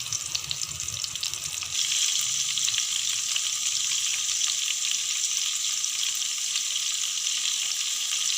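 Tandoori chicken pieces fry in a pan, giving off a steady, loud, broadband sizzle that holds unbroken throughout, with a faint low rumble only at the very start and no talking.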